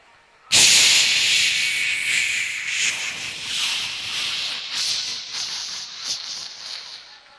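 A performer's voice mimics a messy, sputtering pressure cooker whistle: one loud, abrupt hiss that continues for several seconds, fading slowly and breaking into uneven spitting sputters near the end.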